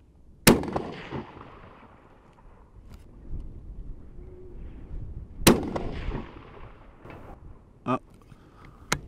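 Two sharp rifle shots from a .222 Remington, fired outdoors at a distance of several seconds apart, each a loud crack with a short decaying echo, followed by quieter thuds and handling noises and faint speech.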